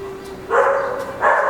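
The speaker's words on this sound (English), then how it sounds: "apologies for the barking dog" Indoor dog barking during a live yoga class, two short barks close by, with a faint whine just before.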